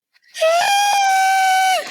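A voice imitates a scream with a single loud, high-pitched squeal that rises quickly, holds steady for over a second, then cuts off.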